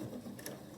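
A sewing machine runs a quarter-inch seam on a miniature quilt wall hanging or table runner, giving a brief, steady mechanical whir alone at close range.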